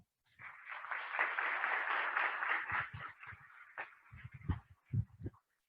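Audience applause welcoming a speaker at an emotional intelligence talk in Peru's engineers' association hall, a swell of many hands clapping that thins into a few scattered louder claps before fading out.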